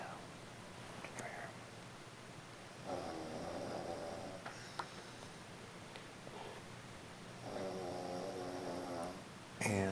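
A man snoring loudly indoors in slow, regular breaths, two long rasping snores spaced several seconds apart, with quiet hushed voices and room noise between them.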